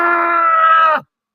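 A person screams and groans during an exorcism, one loud, sustained strained cry lasting about a second before cutting off abruptly into silence.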